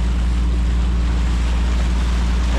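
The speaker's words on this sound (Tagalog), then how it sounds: "Ayan, mga bangka oh." Motorized outrigger boats pass on the open sea on the way to Cebu City, a steady low engine drone blended with wind and water rush, continuous and fairly loud throughout.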